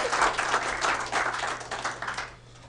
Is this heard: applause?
yes